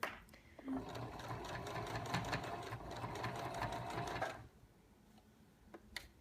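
Sewing machine stitching along the edge of cuddle (minky) fabric, a rapid mechanical rattle running steadily for about four seconds, then stopping to near quiet with a couple of small clicks.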